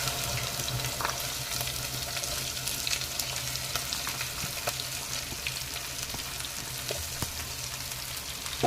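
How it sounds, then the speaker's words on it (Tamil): Chopped okra frying in hot oil with curry leaves, a steady close sizzle and crackle that runs continuously, with occasional stirring clicks in the pan. "நம்ம கட் பண்ணி வச்சிருக்கிற வெண்டைக்காயை சேர்த்துக்கலாம்"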